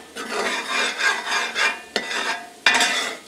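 A flour roux cooks in a pot over high heat for a catfish and shrimp courtbouillon, with repeated close scraping strokes of a spoon against the pot and a light sizzle underneath, plus two sharper knocks of the utensil.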